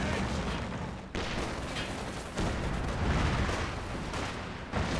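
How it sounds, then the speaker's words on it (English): Heavy mortar shells bursting in Company of Heroes 2, a 1v1 match on the Frost map, heard as dense, continuous booming battlefield noise with several loud surges across the span. "Oh, the heavy mortar shell almost results in the death."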